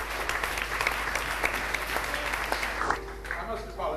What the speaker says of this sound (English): How about a nice round of applause for Mr. Ted Ross?